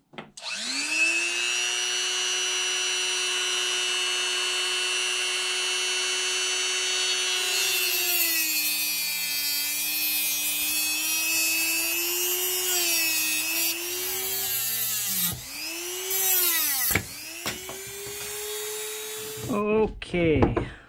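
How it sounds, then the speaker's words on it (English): Power tool in a shed cutting off and drilling a metal ground plane antenna element, starting as a steady high whine with a strong tone that shifts and bogs under load, then breaks into short bursts and stops. "take one of these antennas and cut it off and drill a hole in it"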